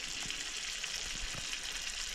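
Built-up crud in an iron pan sizzling over a small stove burner, a steady close frying hiss with faint bubbling pops throughout.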